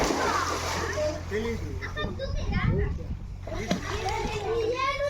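Water splashes and sloshes as a child dives into a village well in rural Telugu-speaking countryside, with children talking and shouting throughout over the continuous churning water.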